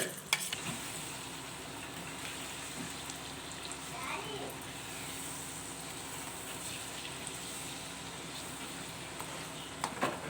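Tamarind, fenugreek and turmeric paste simmers and sizzles in a pan, a steady bubbling fry with occasional stirring scrapes held throughout at moderate volume.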